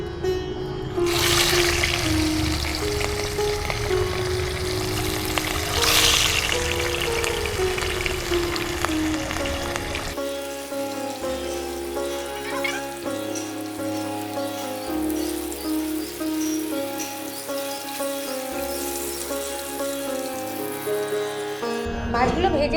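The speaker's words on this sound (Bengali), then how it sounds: "তেল গরম হয়ে গেছে, মাছগুলো ভাজার জন্য ছেড়ে দিচ্ছি" Pieces of katla fish sizzle loudly in hot mustard oil in a village kitchen, a broad crackling hiss at first, then continuing more faintly beneath rhythmic background music.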